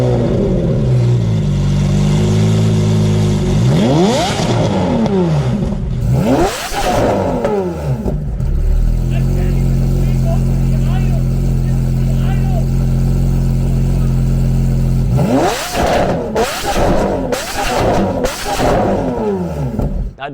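A Lamborghini Aventador's 6.5-liter naturally aspirated V12 revs hard and loud in repeated rising and falling sweeps, with a long sustained high-rpm roar in the middle before more sharp blips near the end.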